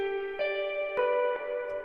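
A sustained tonal music sample with a few note changes, each swelling into a lingering, spacious reverb tail.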